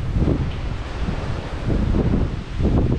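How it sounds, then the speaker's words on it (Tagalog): Strong, gusty typhoon wind in Hong Kong during Typhoon Ragasa, Signal 10, roars in broadband bursts that buffet the microphone, with no voices present. "malakas na yung hangin dito"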